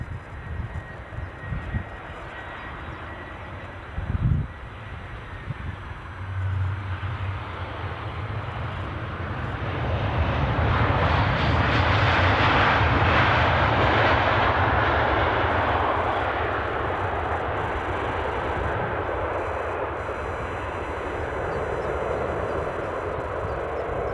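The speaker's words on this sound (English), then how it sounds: "You can hear a couple of start-ups as well in the background." Jet engines at Edinburgh airport start up in the distance, a broad rising roar that swells and holds as a steady whine and rumble over a continuous background hum for more than twenty seconds.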